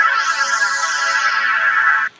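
A Studio One Presence synth chord pad sustains as a bright, airy chord with a shimmering upper sweep, held steadily for about two seconds before cutting off, with no voices.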